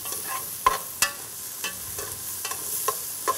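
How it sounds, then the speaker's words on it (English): Cajun trinity vegetables with garlic cooking in a gumbo pot for duck gumbo, giving a soft, steady sizzle with a few sharp spoon clicks and stirring scrapes scattered through. "This Trinity is just about the way I like it. I'm gonna let it cook a few more minutes."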